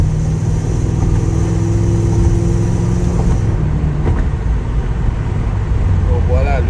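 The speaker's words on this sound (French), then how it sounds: "Là on va accélérer sans les clapets ouverts." A BMW E39 540i V8 accelerating on the road with its exhaust valves closed, a steady muffled engine drone that rises in pitch, heard from inside the car with a voice speaking over it.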